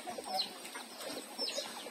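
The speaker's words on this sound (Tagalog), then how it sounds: "Ayan, mga manok niya, oh." Chickens clucking at a rural farmyard in the Philippine countryside, faint and a little distant, with scattered short calls over a soft outdoor background.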